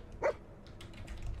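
In the Fallout 4 video game, a dog gives a single short bark, close and fairly loud, followed by faint game background noise.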